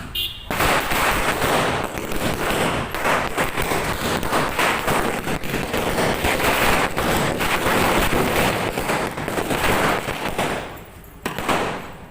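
Diwali firecrackers bursting at a home celebration, a dense continuous crackle of rapid pops like a long string going off, loud and close, with a brief lull near the end before more bursts.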